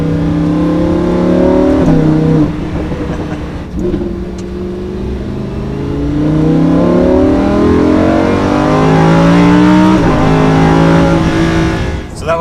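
Lamborghini Huracan LP 610-4 engine revving loud and close, rising and falling through gear changes with sharp exhaust cracks at the downshifts, the V10 note sweeping up and down repeatedly.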